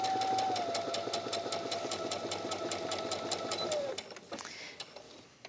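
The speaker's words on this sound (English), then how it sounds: "we're going to place the 2 squares right sides together, and then we're just going to sew along one of the edges" A sewing machine stitches two quilt squares together along one edge with a steady, fast mechanical whir and rapid needle ticking. It then slows and stops into a few separate clicks and handling noises.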